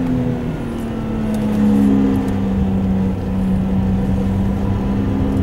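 A car's engine drones steadily with a strong low hum, swelling slightly as it revs, the sound of a car being driven and drifted by a skilled driver, heard alone without talk.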